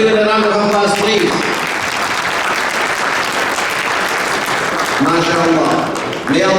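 Guests at an inaugural fundraising dinner give a loud, dense round of applause for a donation, with a voice speaking over the clapping at the start and again near the end.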